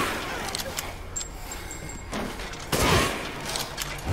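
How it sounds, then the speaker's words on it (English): Sniper rifle shots in the Resident Evil Village video game, two sharp loud bursts near the middle and later in the clip, over a busy game soundscape with no talk. "let me just use a sniper rifle because I have a shit ton of sniper rounds"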